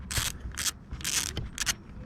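A hand ratchet works a 13mm bolt on the vacuum solenoid assembly of a Peugeot 407 2.0 HDi diesel engine, giving several short bursts of rapid clicking separated by brief pauses, close and fairly quiet.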